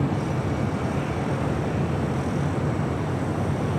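A Delta Airlines A220-300 departing LAX, a loud, steady broadband engine roar with a low rumble that holds evenly from start to finish, no voices.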